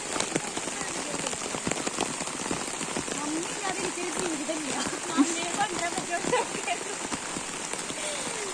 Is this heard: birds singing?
no